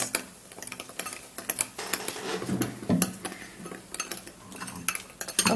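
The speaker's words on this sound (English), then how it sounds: "then you stir really well, just like this." Spoon stirring a lemon mixture in a bowl, with irregular clinks and scraping taps against the dish, close and fairly clear, no speech.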